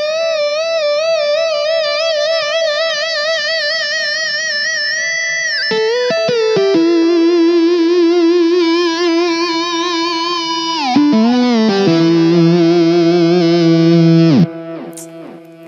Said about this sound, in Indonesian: Misalnya gue pengen main kecil banget fibranya.